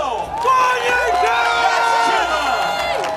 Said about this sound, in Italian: Facciamo loro un grande applauso!